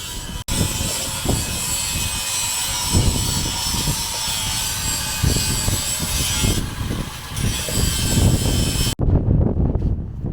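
A big 21-foot farm hay mower works a field of CRP ground, its engine a loud, steady drone close by, with a busy rhythmic clatter of cutting and knocking underneath and a sudden cutoff near the end.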